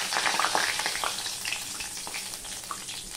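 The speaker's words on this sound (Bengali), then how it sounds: "এবার এই ফোড়নটা হয়ে গেলে প্রথমে আমি তেজপাতাটা দিয়ে দিলাম।" Bay leaves dropped into hot oil for tempering, with chopped onion and garlic in the pan, sizzling and crackling steadily with bright spitting pops, close and fairly loud, gradually easing.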